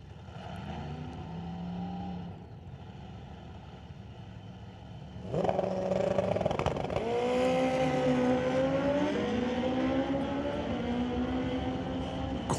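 Drag race cars at an NHRA test and tune session roar down the track, a distant engine whine first, then a louder car launching with rising, sweeping engine tones that hold strong and steady.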